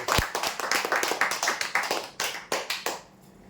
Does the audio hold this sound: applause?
yes